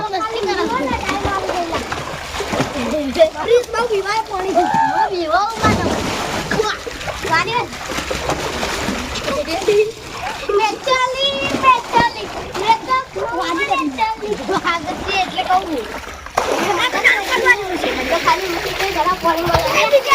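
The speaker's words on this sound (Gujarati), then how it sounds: "ટીંગુ ટીમને નાહવાની ફૂલ મોજ પડી ગઈ છે" Children splash and play in water at a makeshift village water park, with constant splashing and sloshing under their lively chatter and shouts.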